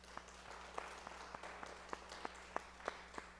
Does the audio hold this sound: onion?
no